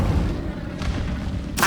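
Spell blasts from the Hogwarts Legacy video game, Confringo and Incendio, boom as heavy, close explosive thumps, one deep impact followed by a sharper burst at the end, with no talk heard.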